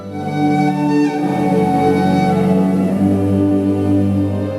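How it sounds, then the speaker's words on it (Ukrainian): Irish bagpipe with a steady drone beneath a bright, piercing melody, sustained and fairly loud throughout. "то як же звучить так звана ірландська волинка?"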